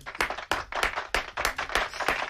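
An audience claps at a live music show, a handful of spaced, fairly faint bursts of hand clapping, each striking sharply then fading, with no talk over it.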